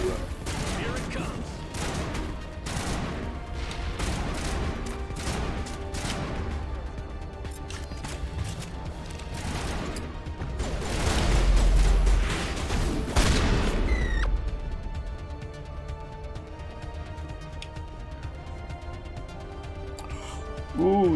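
Sniper gunfire in the Mass Effect 1 Legendary Edition game on Therum, with repeated loud shots and booming blasts that peak near the middle, set against a dense bed of battle noise.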